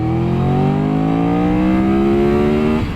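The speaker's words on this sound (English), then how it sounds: "I love when a bike just rockets through a gear to go to 40 to 80 pull." A 2023 Triumph Tiger 1200 GT Explorer motorcycle pulls hard through second gear, its loud engine tone rising steadily for nearly three seconds before easing off, close and with no talk.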